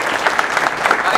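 A university Muslim Students Association audience claps steadily for its officers, a brief burst of close, dense applause with a murmur of voices underneath.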